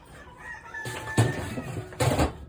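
Chickens cluck nearby, with a rooster crowing faintly in the background and a couple of louder squawks or flaps breaking in.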